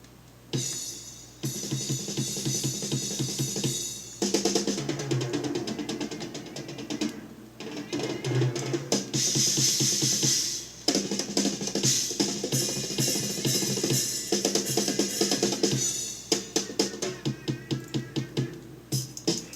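Busy jazz-rock drums play continuously with dense cymbal and snare hits, driving through a full band mix for the whole stretch, from a 1976 Dutch track.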